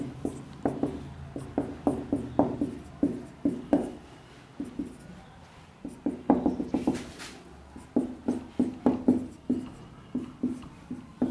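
A pen writes out a maths solution on paper with close, steady scratches in short repeated strokes and brief pauses, and no talking.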